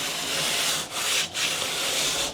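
Dusty ends of 12-foot wooden ceiling boards smoothed by hand, giving a steady, close, continuous abrasive rubbing that breaks twice with short pauses, with no talking.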